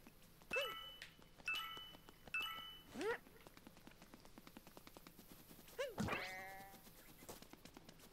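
Sheep in Super Mario Odyssey bleat in short, wavering calls, three close together, then two more after a gap, over faint game clatter and background music.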